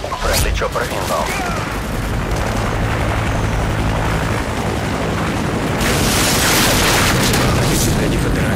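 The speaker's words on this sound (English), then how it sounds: "Chopper inbound." A helicopter arrives during a Call of Duty: Modern Warfare 2 team deathmatch, its loud continuous rotor roar blended with booming explosions and gunfire throughout, growing denser toward the end.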